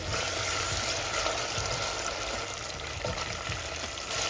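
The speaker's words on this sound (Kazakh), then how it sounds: "майды қыздырып алып, томат пастасын салып, жақсылап араластырып аламыз" Tomato paste frying in hot oil as it is stirred, a close, steady crackling sizzle with soft scraping strokes, no voices.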